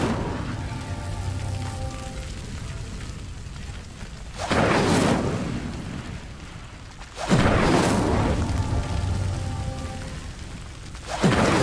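An Incendio fire spell is cast in Hogwarts Legacy. Two loud whooshing bursts rise over an ambient bed, one around the middle and one near the end, with a brief flare just before the close.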